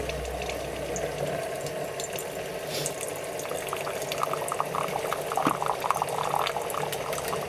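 A Daewoo SDA1247 boiling water dispenser pours one cup of near-boiling water, a steady close stream with bubbling and hiss that grows busier toward the end as the cup fills.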